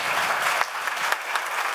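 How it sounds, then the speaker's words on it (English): An audience at the Brussels Forum 2019 policy conference applauds a panel, a loud, steady burst of many hands clapping close by, filling the whole moment with no speech over it. "Please give this panel a great round of applause."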